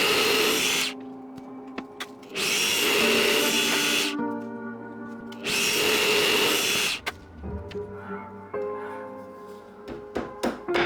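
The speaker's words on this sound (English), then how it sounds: "Using the drill press, I made several holes to remove as much material as I could." A drill press bores holes in wood for a mortise in three loud bursts of whirring motor and cutting, with quieter clunks and handling between them.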